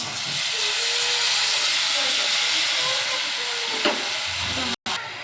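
A steady, loud hiss of spice paste frying in hot oil, continuous and close, with a brief break near the end.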